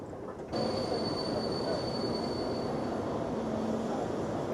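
A Budapest metro train rumbles steadily along the tracks, with a thin high whine over the low roar, loud and close throughout.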